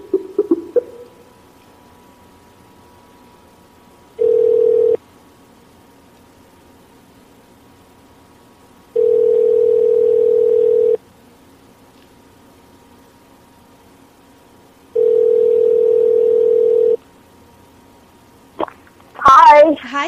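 A telephone ringing tone sounds as a call goes out to a guest, three steady two-second rings separated by silence, followed by a brief burst of voices at the end.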